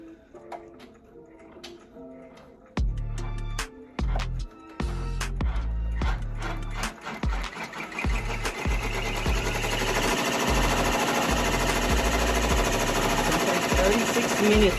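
An embroidery machine stitches an applique onto a baby gown, starting with a few scattered mechanical thuds and then settling into a steady, close, rapid whirring and tapping drone.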